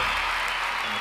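A crowd roars and cheers in a dense, steady wash of noise, loud and unbroken throughout, with no distinct voices standing out.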